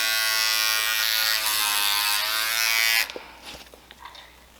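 An electric dog grooming trimmer buzzes steadily and fairly close for about three seconds while working on mats behind a dog's ears, then cuts off, leaving faint clicks and a brief murmured voice.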